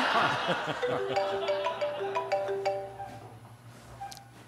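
A mobile phone ringtone plays a repeating melodic pattern of bright tones for several seconds, with muffled chatter and laughter underneath.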